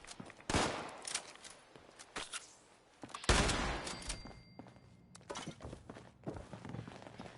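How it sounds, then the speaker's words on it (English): Gunfire in the video game Fallout 76 amid fights with Scorched enemies, loud bursts and thuds with a heavy blast in the middle, mixed with footstep-like knocks; no talking. "Who's shooting at me now?"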